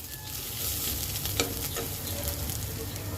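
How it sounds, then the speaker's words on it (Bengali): Goat liver frying with fried ginger-garlic paste in a pan at home, a steady moderate sizzle with a few stirring scrapes and clicks, no talking. "এই আমি দিয়ে দিলাম কলিজা এবার একটু নেড়ে দেব"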